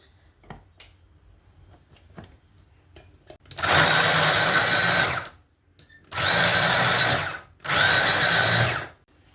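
An electric chopper mincing chicken pieces into paste whirs loudly in three bursts, a long run followed by two shorter pulses, with quiet gaps between them.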